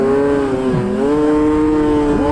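An SKS mountain snowmobile engine screams at around 10,000 RPM, a loud, close, sustained high-revving whine with brief dips in pitch as the throttle eases and returns.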